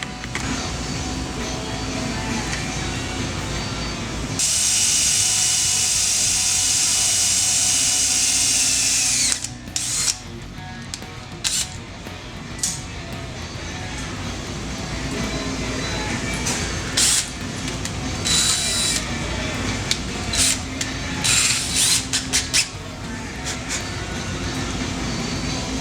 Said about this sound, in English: mark it, drill a hole.